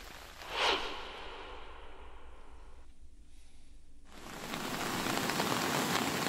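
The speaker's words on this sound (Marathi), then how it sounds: "गेल्या 3 दिवसापासून रत्नागिरी जिल्ह्यातल्या खेडमध्ये मुसळधार पाऊस पडतोय" Heavy monsoon rain pours steadily over Khed in Ratnagiri district, a dense broadband hiss that eases briefly in the middle and then returns louder, with no voices.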